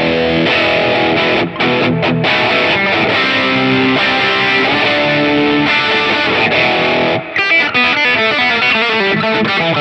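Electric guitar played through an HX Stomp with reverb, overdrive and RAT distortion: dense, sustained distorted chords ring out loud and steady, with brief dropouts and a short break near the end before the playing resumes.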